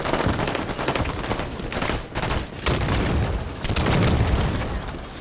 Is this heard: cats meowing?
no